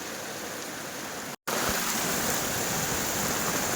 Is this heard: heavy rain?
yes